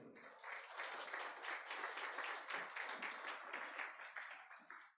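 Church congregation applauding together in a sustained, dense round of clapping that fills the space, steady throughout before tapering off at the end.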